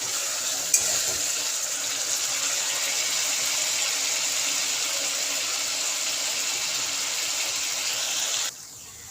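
Spice paste with salt sautéing for a Bengali parshe fish curry, a steady close hiss of frying under stirring that holds evenly for about eight seconds before cutting off abruptly near the end.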